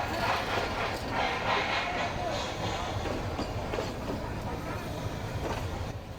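The vintage Ooty steam train rolls along its rails with a continuous rumbling, rattling clatter of wagons, heard from on board or close by, with a murmur of voices in the background.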